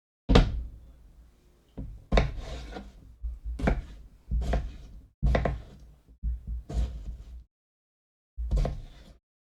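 Onions being chopped on a board for potato soup, with about eight distinct knife thuds and rasping strokes in an irregular rhythm, close and fairly loud with short silent gaps between.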